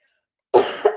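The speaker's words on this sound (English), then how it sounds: "As you cough." A single harsh cough from a person who has been sick, close and loud after silence, with a second smaller hack right behind it.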